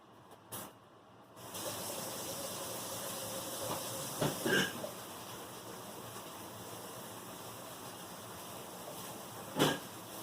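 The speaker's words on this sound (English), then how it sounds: "I'm going to rinse my hands off real quick" Tap water runs steadily into a kitchen sink while hands are rinsed during bread-roll baking, a constant hiss with a few brief clicks and knocks near the start, middle and end, and no talking.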